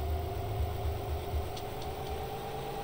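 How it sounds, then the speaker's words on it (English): Tractor engine idling steadily in the Thief Simulator video game, a continuous low rumble with a droning hum, heard alone at moderate level with no talk. "Apparently this tractor is not loud enough to wake him up."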